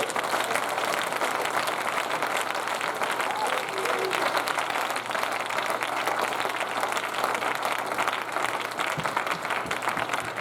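A church congregation at a sermon bursts into sustained applause and acclamation, a dense, steady wash of clapping and crowd voices that stays loud and full from start to finish.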